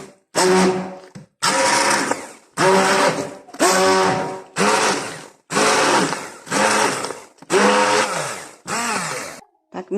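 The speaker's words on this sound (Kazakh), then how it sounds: "Блендермен еземіз енді." A kitchen blender whirs through a curd pie batter of cottage cheese and egg in about eight loud, close pulses, each burst roaring briefly before cutting off with short gaps between.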